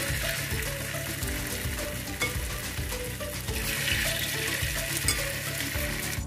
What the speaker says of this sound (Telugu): ఈ విధంగా డ్రాప్ చేసుకొని అన్నిటిని ఫ్రై చేసుకుందాం